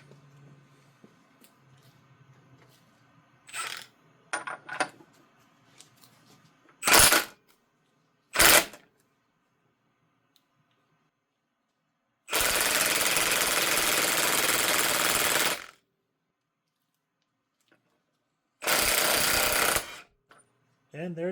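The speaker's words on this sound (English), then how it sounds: "I've got the KED flywheel puller fitted to this flywheel, and I've got my impact ready to go." Impact wrench hammering on a flywheel puller to remove the flywheel from a Mini Cooper S engine: two loud, close rattling bursts lasting several seconds, with a few short blips and clunks before them.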